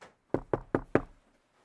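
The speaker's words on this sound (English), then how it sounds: "knocking on the door" Four evenly spaced knocks on a door, close and clear, with a short decay after the last one and silence before and after.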